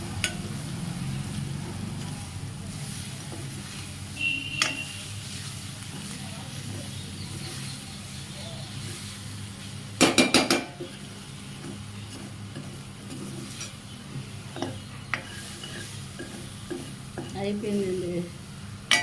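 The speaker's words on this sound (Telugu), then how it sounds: "ఒకసారి జాయిగా కలుపుదామండి." Food stirred in an oiled cooking pan over a steady sizzle, with a spoon scraping and clinking against the metal and a few louder knocks.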